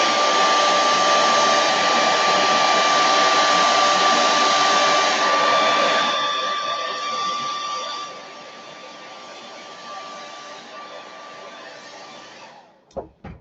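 A hair dryer blows steadily on flowers being dried for a bouquet, a loud whirring drone that lowers in pitch and volume partway through, then cuts off with a few clicks at the end.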